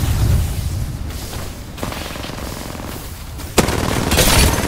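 Apex Legends match: a bursty grenade detonation is followed by rapid fusillades of in-game gunfire. The sound is loud and layered, with booms and cracking shots swelling toward the end.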